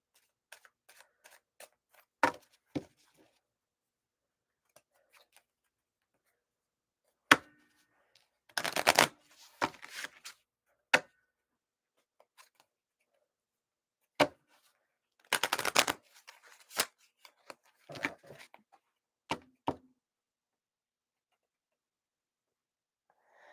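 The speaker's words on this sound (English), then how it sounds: "Okay, so I got to give these a good shuffle." Cards are riffled and bridged in short bursts, crisp fluttering rattles separated by quiet pauses and occasional light taps, close by.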